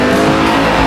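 A carbureted V8 muscle car roars in a loud, steady, throaty drone that fills the whole second, close and unbroken, with no voices.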